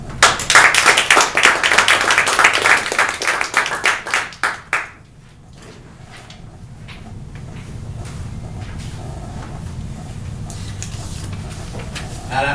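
A room full of people claps in welcome for a Toastmasters speaker, a dense run of loud applause that thins and stops after about five seconds, leaving quiet room tone.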